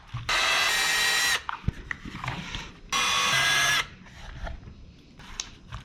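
Power drill backing out chassis screws on a Traxxas Rustler 4x4 VXL RC truck: two loud, steady whirring bursts, each about a second long, separated by quiet handling clatter.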